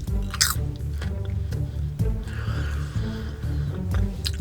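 Close chewing of caramel-and-butter cinema popcorn, with moist, sticky mastication and a few sharper crunchy bites repeating over several seconds.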